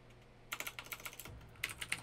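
Quick bursts of typing on a computer keyboard while playing the hacking game Hacknet, close and crisp key clicks in two short runs separated by a brief pause, with no talk.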